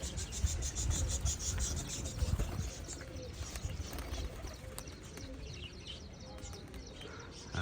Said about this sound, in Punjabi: ਆ ਜੋੜਾ ਘੁੱਗੀਆਂ ਦਾ ਕੂੰ ਕੂੰ ਕਰਦਾ